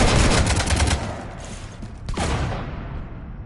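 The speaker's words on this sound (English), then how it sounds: "You want to stop shooting up my ship?" Gunfire in the shooter Mass Effect 3 inside a ship: a loud burst of rapid shots at the start, then a heavy blast that rings out and decays into quiet.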